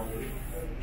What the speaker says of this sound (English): Now we gotta spray this.